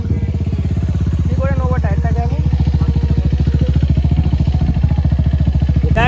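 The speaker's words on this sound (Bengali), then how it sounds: "এর বাইকে করে আমি এখন যাবো" A motorcycle engine idles close by with a steady rapid thumping rhythm, and a brief voice is heard over it.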